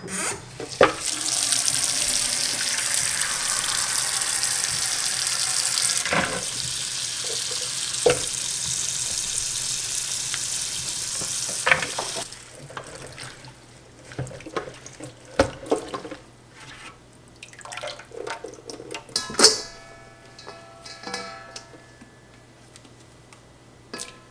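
Green beans being washed under a running kitchen tap, a steady close rush of water into the sink for about twelve seconds, then broken splashes, drips and handling clatter as the flow stops and starts.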